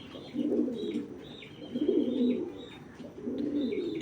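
Netherlands racing pigeons cooing in a loft, three deep rolling coos spaced about a second and a half apart, close and moderately loud, with faint higher chirps from other birds behind them.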